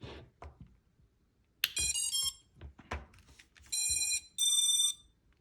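An FPV drone powers up with a series of short electronic beeps and tonal chirps, some rising, some held, sounding in bursts against near silence with a few small clicks between.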